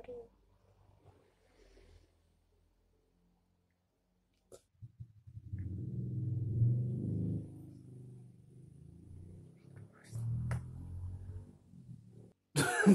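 Someone coughs repeatedly in a quiet indoor room, a run of rough, close coughs and throat-clearing bursts with pauses between them.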